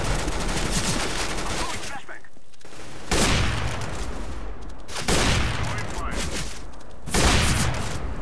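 Rapid bursts of gunfire in Counter-Strike: Global Offensive rattle loudly in several volleys, separated by brief gaps, with a voice speaking underneath.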